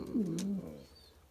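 A Spanish pouter pigeon gives a single soft, throaty coo close by, rising and then falling away within about a second.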